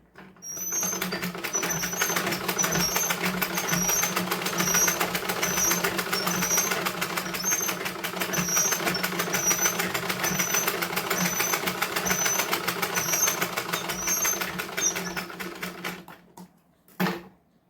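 A sewing machine stitches fabric for a blouse in one long continuous run, a fast steady mechanical rattle of the needle close by, stopping near the end followed by a brief clunk.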